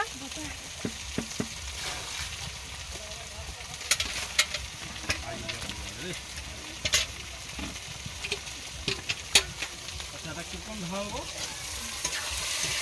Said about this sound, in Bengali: এবার আমি মাংসটা দিয়ে দেবো অনেকখানি মাংস